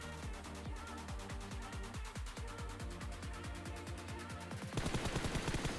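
Rapid bursts of video game gunfire ring out in a steady rhythm, loud and close, with a quicker volley of shots at the end.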